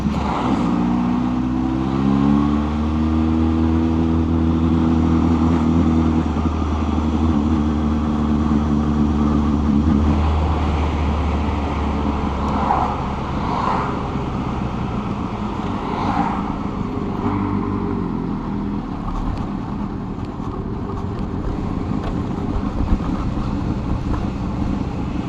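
A motorcycle rides along a road toward Balchik by the sea, its engine humming steadily beneath loud, constant wind buffeting the microphone, with the engine tone shifting slightly early on.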